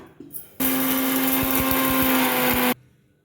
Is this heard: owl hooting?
no